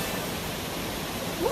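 Waterfall at Cascade d'Antoine in Haute-Loire, France: a steady, dense roar of falling water, close and continuous, with no breaks.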